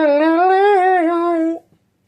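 A voice imitates a saxophone with a sustained, wavering reedy hum, one long phrase that stops abruptly, followed by silence.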